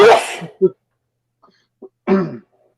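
A sharp, explosive sneeze bursts out at the start, followed by a couple of short sniffs and another breathy burst near the end, close and loud.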